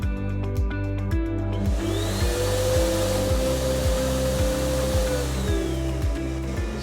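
Steady, forceful air roar from a Jet Tifón high-performance automatic hand dryer, with a faint high whine rising and falling over it and a rhythmic music beat underneath throughout.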